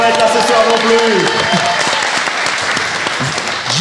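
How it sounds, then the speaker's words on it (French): Audience applause at a live podcast event in Rennes, a sustained, fairly loud wash of clapping with a voice speaking over it. "Un tonnerre d'applaudissements pour Chief, notre ingé son qui ne peut pas être là ce soir non plus."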